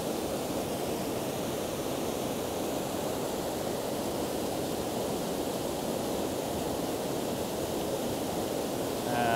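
A waterfall above a brook trout pool roars as a steady, dense rush of falling water, loud and continuous, with no voices.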